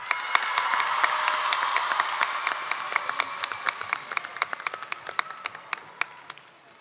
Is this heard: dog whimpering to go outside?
no